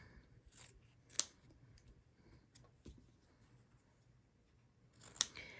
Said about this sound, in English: I'll just trim a 1/4 inch away from that line or that diagonal stitch